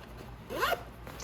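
A single zipper on a tactical fanny pack is pulled in one quick, close rasping stroke lasting under a second, amid quiet room background.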